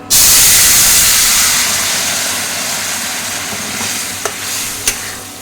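Fish-head curry with taro and potato pours into a hot pan and bursts into a loud sizzle that settles into steady frying hiss as it is stirred, with a couple of sharp utensil clicks.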